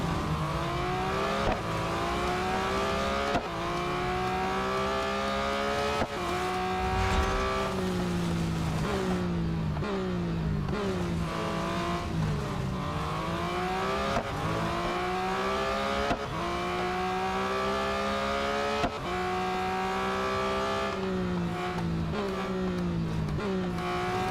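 A 2021 Porsche 911 GT3 in the Real Racing 3 game, its engine revving hard through repeated upshifts and sudden downshifts under braking, loud and continuous with occasional tire noise and brief quiet talk.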